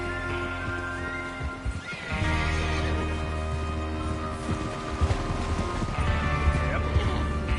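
A horse whinnies in the video game Red Dead Redemption over a dense, continuous bed of music and ambient sound, with occasional hoof clops mixed in.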